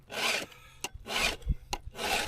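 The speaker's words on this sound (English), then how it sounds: "every couple of tanks of gas, I gotta sharpen my blade, my chain." A hand file rasping across a chainsaw chain to sharpen it during tree work near a house, in three long, even strokes with short clicks and knocks between them, close and loud with no talk.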